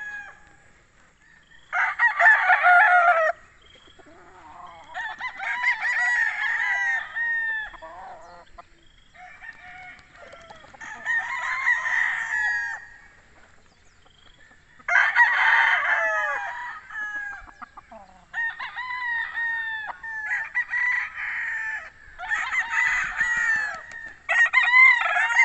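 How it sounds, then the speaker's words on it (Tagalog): Chickens and young stag roosters on a Philippine farm, several loud nearby crows and clucks rising and falling in repeated bursts over about twenty-five seconds, with no talking. "Ito, bagong pungus po yung mga manok dito."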